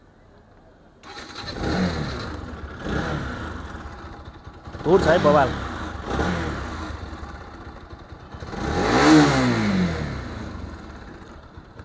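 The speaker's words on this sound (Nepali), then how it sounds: "बाइकको साउन्ड सुन्नुस् कस्तो छ" A motorcycle for sale in good condition starts up and revs in several rising bursts, loud and close, with someone speaking briefly over the engine.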